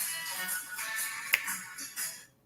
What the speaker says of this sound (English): She's got a phone call.